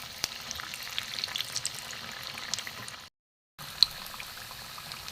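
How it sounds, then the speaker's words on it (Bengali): Peas kachori fry in hot oil with a continuous bubbling sizzle and occasional stirring taps. It cuts out briefly near the middle, then resumes, and there is no talk. "একটু লাল করে ভাজি।"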